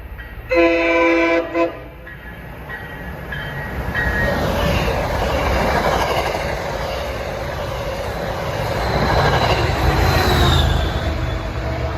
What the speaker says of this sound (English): Wow, an 8-car train.